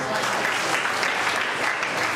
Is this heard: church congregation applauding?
yes